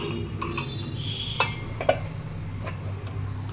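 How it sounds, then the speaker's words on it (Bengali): Scrubbing a kadai (wok) in a kitchen makes a steady low scraping rasp, broken by a couple of sharp metallic clinks, with no talk. "এবার কড়াইটা মাজবো"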